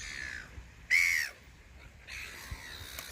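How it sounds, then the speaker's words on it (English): Seagulls give a few loud, drawn-out calls outdoors, with one strong cry near the start and a fainter one later over light background noise. "I can't stand the sound of seagulls."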